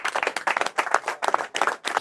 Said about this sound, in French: Et je voudrais pour cela que nous puissions vraiment applaudir,